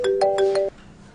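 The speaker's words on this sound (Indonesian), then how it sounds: "aku ada telepon" A mobile phone ringtone plays a short, bright melodic chime pattern of about four notes, loud and close, then cuts off abruptly into quiet room tone.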